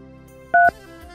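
Telephone keypad pressed once during an automated call, giving a single short two-tone beep that stands out loud and clear over a faint background hum.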